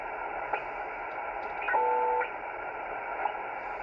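A CB radio receiver on an empty channel gives a steady, band-limited static hiss, with faint clicks and a brief electronic tone midway.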